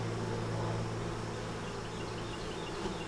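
Honey bees hum around an open hive, a dense steady buzz close by that holds at an even level throughout with no pauses and no voices.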